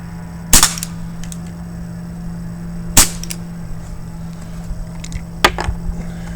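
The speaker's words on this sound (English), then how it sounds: "You can tell this thing is starting to lose power just based on the noises that it's making." Crosman Vigilante air pistol firing as it starts to lose power, three sharp, loud cracking shots spaced a few seconds apart over a steady low hum, with faint ticks between them.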